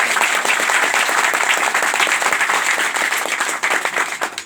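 Loud, dense applause from a large gathering welcoming an honoured guest, sustained clapping that fills the whole stretch and tapers slightly at the end, with no talk over it.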